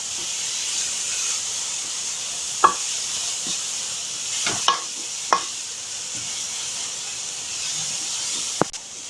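Vegetables for chicken fried rice are stir-fried fast over a high flame, giving a steady loud hiss and sizzle broken by a few sharp clacks of a spatula against the pan.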